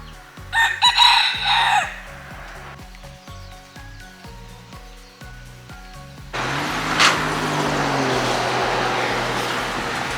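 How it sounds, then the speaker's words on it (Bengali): Roosters and chickens roam outdoors along a roadside in Hawaii; a loud crow opens the scene, followed by scattered clucking and passing traffic that swells into steady road noise near the end. "পিছনে প্রচুর মুরগি ঘুরে বেড়াচ্ছে এখানে প্রচুর মুরগি রাস্তায় সারা রাস্তায় মোরগ মুরগি ঘুরে বেড়াচ্ছে সব সময়"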